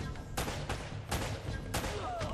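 Rapid gunfire in the video game Uncharted: Drake's Fortune, quick repeated shots with a few sharper cracks standing out, moderately loud in a short burst.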